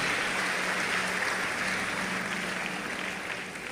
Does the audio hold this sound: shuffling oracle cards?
no